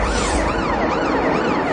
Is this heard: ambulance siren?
yes